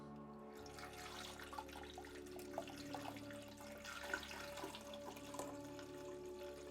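A 9% silver nitrate solution is poured into a tray outdoors for wet plate photography, a soft continuous trickle and splash of liquid that stays fairly faint against a quiet background.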